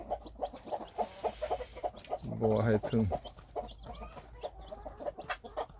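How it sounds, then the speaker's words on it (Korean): Cheonggye (Araucana-type) hen clucks steadily among her naturally hatched chicks, their soft peeping mixed in, with a brief louder squawk partway through and someone speaking quietly over the birds. "병아리들이 잘 지금 적응을 하고 뭐 지금 아주 건강하게"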